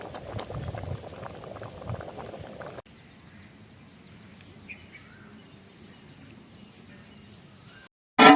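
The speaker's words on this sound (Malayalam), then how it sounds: "നമുക്കൊന്ന് ചെറുപയർ വേവിക്കാൻ വെക്കാം." Green gram (mung beans) boiling in a pot of salted water, a steady bubbling simmer, louder at first and then quieter and continuous, ending with a sudden loud clatter.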